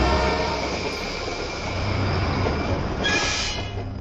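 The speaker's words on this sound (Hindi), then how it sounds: "अचानक ट्रेन के हॉर्न की आवाज आ गई" A train arrives at a platform, a steady rumbling roll with a brief hiss or horn-like burst near the end, moderately loud and without voices.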